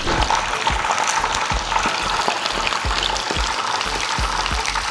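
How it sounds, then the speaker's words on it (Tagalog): Chicken pieces fry skin side down in hot oil under a splatter screen, a dense, continuous close sizzle with steady crackling and small popping bursts and no talk. "Tuloy lang natin pagprito."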